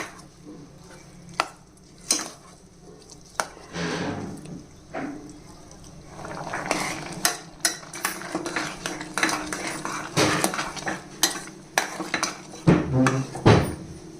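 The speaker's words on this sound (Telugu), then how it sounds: "బాగా మెత్తగా అవ్వకుండా లైట్గా ఇలా మధ్య మధ్యలో కలుపుతూ ఉడికించాలి" Spoon stirring a sweet rice dish slowly cooking in a pan, irregular metallic scrapes and clinks against the vessel that grow busier and louder over time, with faint talk in the background.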